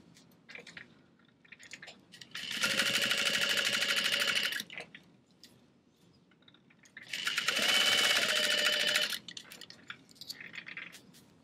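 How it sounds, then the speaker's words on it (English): A sewing machine top-stitches folded strap connectors for a backpack in two close, fast bursts of about two seconds each, with quiet handling of fabric before, between and after. "Top stitching along either side,"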